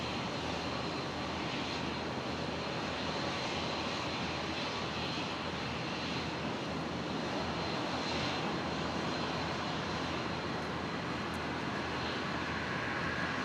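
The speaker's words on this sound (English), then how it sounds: "737-700, the short variant that they have." A Virgin Australia Boeing 737-700 jet at Brisbane Airport, bound for Cairns, gives a loud, sustained engine roar with a faint high whine, steady and close for the whole stretch, with no voices.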